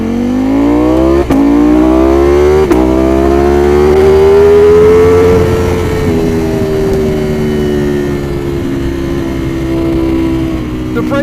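A Ducati V4R motorcycle engine revs hard and holds high, its pitch climbing and then easing off, loud and close with sharp throttle blips near the start and no talk over it.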